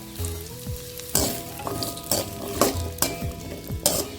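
Onions sautéing in a hot pan crackle and sizzle steadily while a spoon stirs them, scraping and clanking against the metal in several sharp bursts about once a second.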